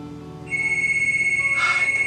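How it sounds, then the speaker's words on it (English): An electronic phone ring starts abruptly and sustains as a steady pulsing tone, clear and alone. "Phone rings."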